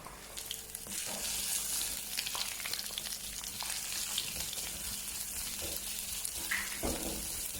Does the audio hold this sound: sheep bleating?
no